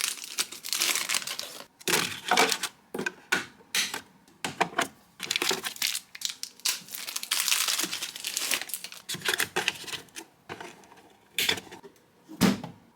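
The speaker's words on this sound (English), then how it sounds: "take these out of the plastic bags" Plastic bags crinkle and crumple loudly as parts of a Bambu Lab P1S 3D printer and AMS unit are unwrapped, in close, bursty rustling with brief pauses.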